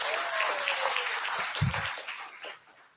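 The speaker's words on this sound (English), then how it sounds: "Let's give him a big round of applause." Applause from a graduation audience for a guest, a dense patter that begins fairly strong and then fades away over a few seconds.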